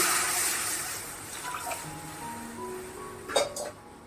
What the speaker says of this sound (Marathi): आता याच्यात पाणी घालते मी